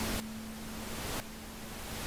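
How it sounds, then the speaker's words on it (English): Faint pink noise from the AU GEN X synthesizer app on an iPad, a soft, steady hiss with a quiet low hum beneath it and slight level changes. "To pink noise, switch it on."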